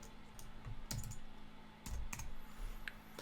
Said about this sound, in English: I've just typed something there.